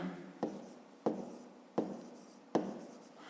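A pen writes numbers in a fifth-grade math exercise, making four evenly spaced scratchy strokes close and quiet, each starting with a tap and fading in a soft scrape.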